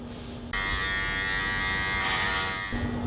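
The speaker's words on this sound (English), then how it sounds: "My first choice of clippers will be the Wahl Magic Clip cordless with the number 2 attachment guards." Wahl Magic Clip cordless hair clippers with a number 2 guard switch on and buzz steadily and close up for a few seconds, then switch off, with no talking.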